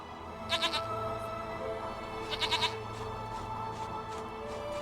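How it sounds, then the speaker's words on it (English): Goat bleats from The Witcher 3 come in short wavering bursts, a pair early and another cluster midway, over a steady ambient game background. "Goat of mine, dearest, sweetest goat."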